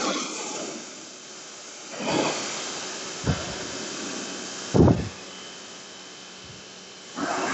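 A SunJoe SPX-4004 electric pressure washer sprays in a steady close hiss, with a few sharper bursts and surges as the spray shifts.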